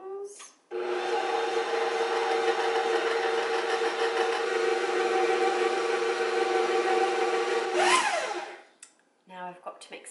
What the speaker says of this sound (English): Pull out our heavy mixer here.